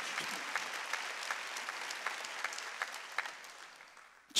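A congregation claps at a Wednesday church worship service, a steady wash of applause with individual sharp claps standing out and fading toward the end.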